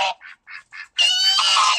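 A duck attacks a dog, giving a few short, clipped quacks followed by a long, loud, harsh burst of rapid quacking, close and with no talk.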